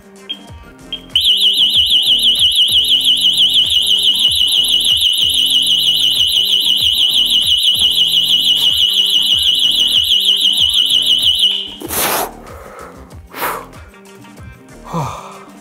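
Blaupunkt SA 2700 smart GSM home alarm siren sounding loudly and continuously for about ten seconds, a piercing warbling tone, followed by a sharp exhalation and rustling once it stops.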